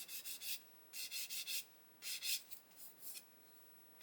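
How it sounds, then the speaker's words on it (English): A half-worn 400 grit sanding stick rubs gently along the seam of a Trumpeter 1/32 BF-109 K4 plastic model kit, soft close scratchy strokes in short bursts with brief pauses between them. "I'm sanding over that"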